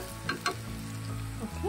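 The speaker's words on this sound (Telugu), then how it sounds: "సో ఇది కొంచెం వేగనిస్తాం ఇంకా." Capsicum curry with onion paste frying in a pan, a close continuous sizzle with a couple of sharp stirring clatters early on and a scraping sound near the end.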